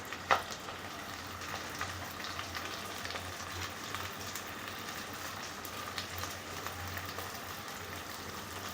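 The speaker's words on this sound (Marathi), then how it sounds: "आता आपण भेंडीसुद्धा त्याच्यात टाकून थोडी फ्राय करून घ्यायची त्याच्यात कांद्याबरोबर" Okra frying in oil with onions for masala dahi bhendi makes a steady, fairly quiet sizzle and crackle, with a brief knock near the start.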